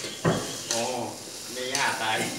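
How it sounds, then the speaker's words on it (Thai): Mama instant noodles stir-fried in a pan with a spatula, giving a steady sizzle with a few scraping strokes while people talk over it. "จับตะหลิวเร็วไวคนเข้าไปให้มันสุกเลย"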